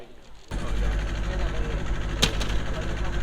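A speedboat engine fires up and roars loudly and steadily on a river in Barisal, a deep sustained drone after a quiet start, with a brief sharp burst partway through.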